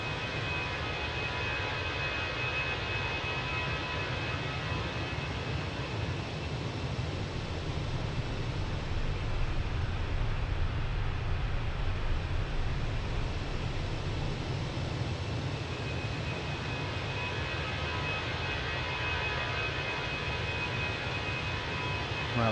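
Jet engines of a Fenix A321 airliner in Microsoft Flight Simulator 2024, a steady broadband roar with a faint high whine that holds evenly throughout, no voices.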